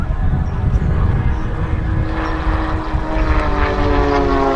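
Loud, steady droning of a PBY-5A Catalina flying boat's propeller engines as it flies low at an air show, with a continuous throbbing roar throughout.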